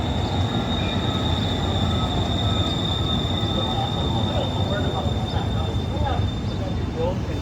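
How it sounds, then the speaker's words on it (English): Tram passing along a downtown Houston street, a steady close rumble of wheels on rail with a faint high whine, while someone talks over it. "I'll talk about them in just a moment after this tram passes."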